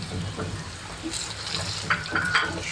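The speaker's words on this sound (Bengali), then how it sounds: "শুটকি ভেজে নিয়ে পেঁয়াজ দেবো" Dried loitta fish frying in a pan gives a steady close sizzle with soft stirring scrapes, continuous and moderately loud with no talking.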